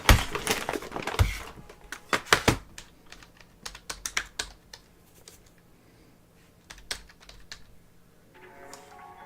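Quick bursts of computer keyboard typing, crisp close key clicks in uneven runs with short pauses, alone without speech.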